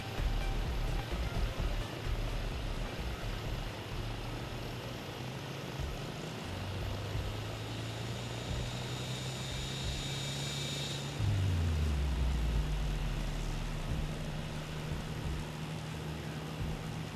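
Aircraft engine spooling up in a flight simulator during a Sardinian coastal cruise group flight, a steady broadband roar with a tone that rises in pitch and swells louder partway through, continuous and close.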